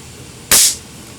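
A single sharp, loud crack from a Crosman Vantage air rifle firing a supersonic pellet, a brief bright snap that decays quickly over a quiet background.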